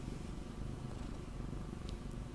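A pet cat purrs in a steady, close, low rumbling drone throughout, quiet and continuous with no talking.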